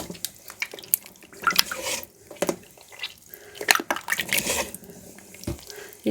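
Clay is stirred and dissolved in water, with irregular splashes, drips and trickles that come and go in uneven bursts at close range.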